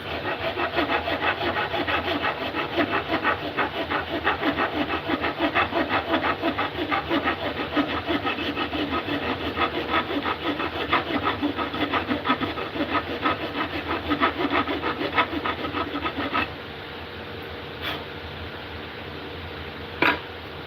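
A hand file rasps back and forth across a piece of wood in rapid, loud, close strokes for about sixteen seconds, then stops, leaving faint room noise and a couple of small knocks.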